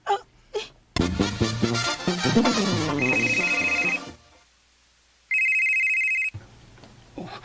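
A cellphone rings in two short, bright electronic bursts separated by a quiet gap, following a stretch of loud music, with no one talking.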